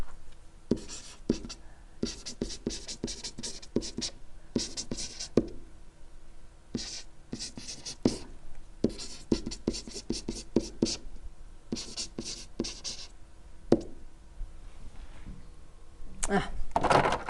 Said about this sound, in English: I'll write it real fast so you can read it.